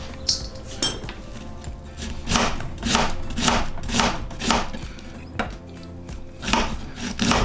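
A knife chops and shreds broccoli slaw vegetables with cilantro on a cutting board, steady rhythmic thuds and scraping strokes repeating close up with no talk.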